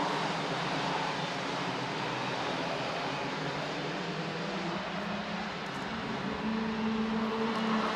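OK Junior and Mini U10 racing karts run around a circuit during a WSK Super Master Series prefinal, making a continuous droning engine roar that stays steady and fairly distant, with a faint rising engine whine toward the end.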